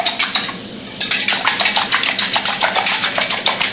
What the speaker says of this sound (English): Throw a couple of eggs in there, whisk them up